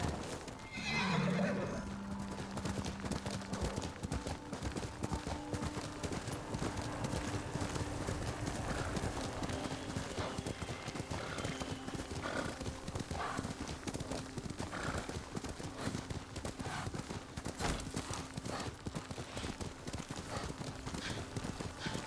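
In the video game Ghost of Tsushima, a horse whinnies once near the start, then hooves clip-clop in a steady, continuous rhythm against a busy background.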